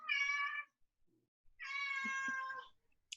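A cat meows twice, close and clear, with a short pause between the calls.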